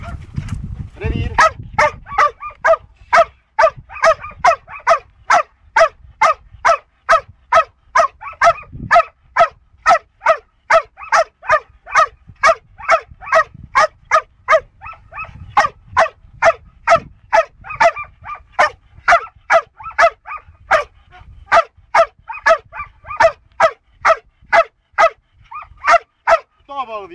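A seven-month-old Belgian Malinois barking during training, a long run of loud, rapid, evenly spaced barks close by, continuing steadily with only brief pauses, while a person speaks now and then underneath.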